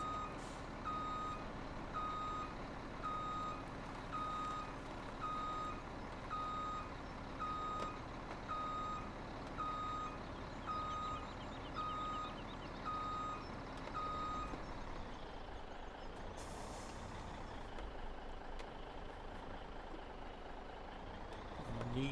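A truck in Farming Simulator 17 reverses on the Sosnovka map with a steady, evenly spaced backup beeper sounding over a constant engine drone, then the beeping stops and only the idling engine remains.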